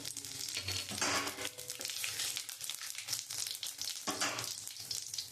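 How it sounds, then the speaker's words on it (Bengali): Cumin seeds crackle and spit as they temper in hot oil left over from frying fish, during preparation of a puti fish and radish curry; dense continuous sizzling with louder bursts, close and steady, no talk. "আমি একটু জিরে ফোড়ন দিয়ে দেবো"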